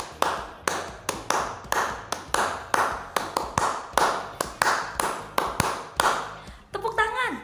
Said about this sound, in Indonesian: Tepuk tangan. Itu juga bisa dijadikan sebagai musik.